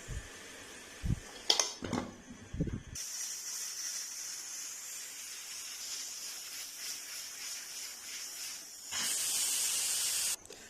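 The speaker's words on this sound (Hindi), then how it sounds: "प्रेशर रिलीज हो चुका है।" A continuous hiss of steam escaping from a pressure cooker of mutton curry runs for several seconds, growing louder near the end, after a few clanks and knocks.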